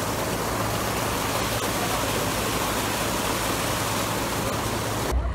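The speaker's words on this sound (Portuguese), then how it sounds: "o que mais tá gostando desse passeio aqui é esse barulhinho de água gostoso" Water rushing at the Ducha de Prata waterfall in Campos do Jordão, a steady loud broadband roar of falling water filling the scene, with no voices.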